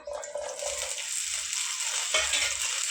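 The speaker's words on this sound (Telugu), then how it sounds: "నేను ఒక 20 పచ్చిమిరపకాయలు ఇట్లా సన్నగా ముక్కలు కట్ చేసి వేసుకుంటున్నాను." Thinly chopped green chillies, about twenty, frying in hot oil in a pan, a steady bright sizzle with occasional stirring scrapes and soft knocks, close and continuous with no talk.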